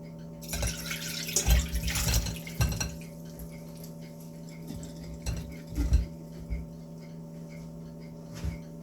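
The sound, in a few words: liquid being drained from a pot into a bowl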